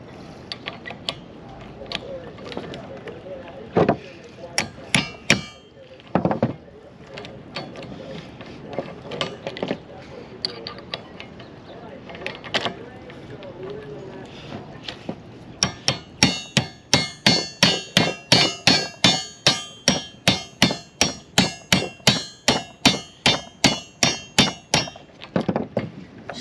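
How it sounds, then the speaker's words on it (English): Repeated metal hammer blows knocking a stuck, soaked part out of a boat, irregular loud clangs at first, then a fast regular run of about twenty sharp strikes, with occasional mechanical clatter. "So it's out after lots of banging."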